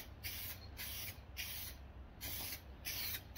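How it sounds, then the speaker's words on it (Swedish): Spray can paint hissing onto a Volvo 740/940 body panel in a garage, about six short bursts with brief pauses between them, close and fairly quiet. "Så, då går vi på med nästa färg, burkfärg här då."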